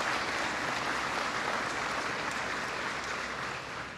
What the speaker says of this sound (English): So give a big round of applause, would you, for Cajun Industries